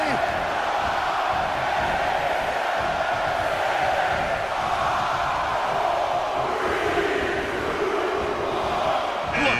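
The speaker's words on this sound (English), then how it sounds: "Just listen to the crowd!" Video game crowd noise in WWE 2K23 during a Royal Rumble wrestling match, a loud, continuous roar of an arena audience with shouts and cheers mixed in, steady for the whole stretch.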